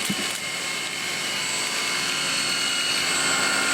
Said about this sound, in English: let's hook up this motor straight to the alternator